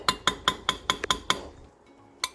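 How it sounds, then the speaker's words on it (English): Wooden rolling pin tapping a metal jar lid: seven crisp, evenly spaced knocks with a bright ringing clink, then a pause and one final tap, close and clear with no talking. "to get a wooden rolling pin and gently tap to get your lids off."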